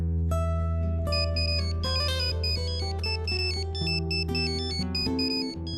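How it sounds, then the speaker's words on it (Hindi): A bright, tuneful electronic ringtone plays loudly and steadily, its melody of chiming notes repeating with no voices. "शिव का फोन।"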